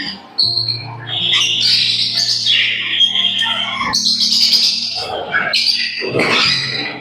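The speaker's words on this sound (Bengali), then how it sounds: "এইগুলো হচ্ছে আমার গ্রাস প্যারাকিট" Several grass parakeets, a mix of Australian parakeet species, chirp, squawk and whistle in an aviary room, a busy overlapping chorus of bright calls close by over a low steady hum.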